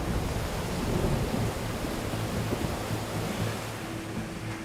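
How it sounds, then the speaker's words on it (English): Rain falls outside a cave in Taiwan: a steady, dense wash of hissing noise with a low rumbling undertone that holds evenly throughout, no voices present. "It's raining."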